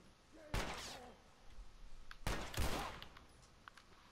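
Gunshots in The Last of Us, two sharp loud reports about two seconds apart, each with a short rumbling tail, over faint background noise.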